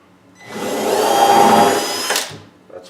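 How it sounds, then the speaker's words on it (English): A power drill whirs up for about two seconds drilling a pilot hole at a door hinge, a steady high-pitched whine that cuts off abruptly, followed by a faint clunk. "and drill my pilot hole."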